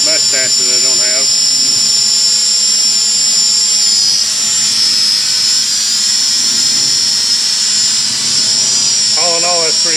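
A Hubsan H216A X4 Desire Pro drone hovers steadily nearby with a loud, constant high-pitched propeller whine, while someone talks over it.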